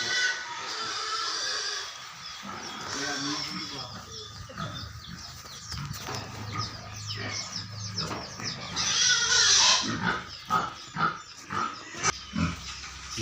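Farm pigs squeal at feeding time as they are given warm feed, with high-pitched, overlapping cries that grow louder and burst out in short repeated squeals toward the end.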